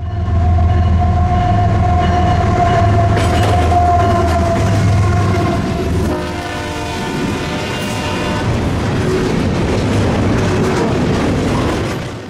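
CSX container freight train I-177, an overnight intermodal run from Jacksonville to Winter Haven, rolls loudly past a station with a sustained locomotive horn, then steady wheel rumble and clatter as the cars pass close by.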